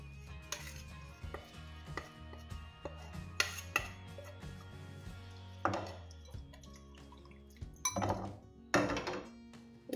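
Tandoori chicken marinade with ginger-garlic paste, kasuri methi, curd and spice powders being mixed with a spoon in a bowl: scattered clinks, knocks and scrapes of spoon against the bowl, fairly close, with no talk.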